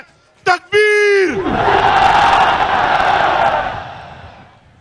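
A Karachi political rally crowd roars a slogan response after a leader's amplified call, one short shout then a long, loud swelling collective bellow that slowly fades.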